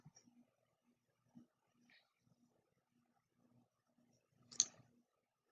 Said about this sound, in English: You want to click on Log In as a Student.